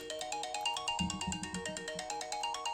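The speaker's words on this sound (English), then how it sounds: "Excuse me, my phone ringing" A phone ringtone plays a bright, repeating electronic melody at moderate volume, its pulsing notes looping evenly with no voices over it.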